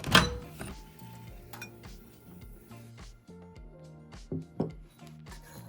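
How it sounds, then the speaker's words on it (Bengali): A glass bowl of roasted salted nuts lifted out of a microwave oven, with a sharp clink and knock of glass at the start, then scattered lighter clinks and taps over a low hum, close and fairly quiet. "2 মিনিট হয়ে গেছে, আমি এখন বাটিটিকে বের করে নেব।"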